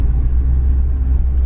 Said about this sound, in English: The engine really runs nice and quiet on it.